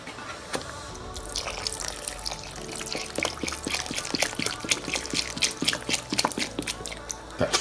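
Vinegar pours from a full bottle into a container, a busy trickling and splashing with scattered drips that grows denser and louder toward the end.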